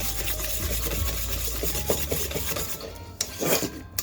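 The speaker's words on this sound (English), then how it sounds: "now we're gonna whisk this together. Get the butter and the vanilla incorporated" Butter and vanilla being whisked together in a bowl for snickerdoodle cookie dough, giving a steady, close scraping rasp that stops briefly and then resumes, with no talking.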